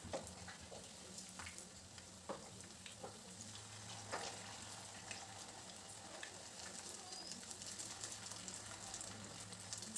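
Jackfruit seed dumplings fry in a pan, producing a continuous soft sizzle with scattered small pops and crackles throughout, steady and close but not loud.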